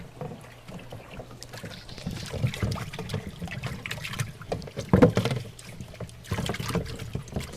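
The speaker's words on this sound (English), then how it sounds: "Let's go ahead and rinse this off real quick." Aquarium filter media is rinsed under running water, a close splashing and trickling stream with sloshing surges and a brief bump midway, with no speech.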